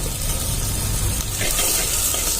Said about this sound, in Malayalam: അതിലേക്ക് കുറച്ച് ഓയിൽ ഒഴിച്ചു കൊടുക്കുക എന്നിട്ട് അതിലേക്ക് നമ്മൾ നേരത്തെ മുറിച്ച് വെച്ച ഉള്ളിയില്ലേ ആ ഉള്ളി അതിലേക്ക് ഇട്ട് കൊടുക്കുക